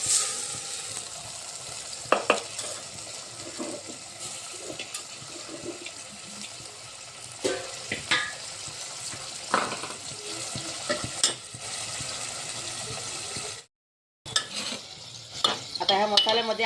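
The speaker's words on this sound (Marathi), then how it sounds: "ह्या मसाल्यामध्येच मी हा फणस टाकणार आहे आता" Steamed jackfruit tipped into frying masala in a pan and stirred, with a continuous close sizzle broken by scraping spoon strokes and a brief cut to silence.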